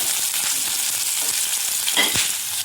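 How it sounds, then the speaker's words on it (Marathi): Finely chopped onion with cumin and mustard seeds frying in oil, a steady dense sizzle throughout with a brief louder crackle and scrape of stirring near the end; no talking. "जिरं, बारीक चिरलेला कांदा परतून घ्यायचा आहे मऊ होईपर्यंत"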